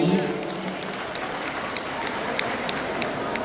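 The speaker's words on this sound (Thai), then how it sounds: "ปรบมือดังๆสักครั้งครับผม" An audience claps steadily at a stage at a birthday celebration in Tha Muang, Kanchanaburi, a dense, sustained patter of many hands with scattered sharper claps and no talk on top.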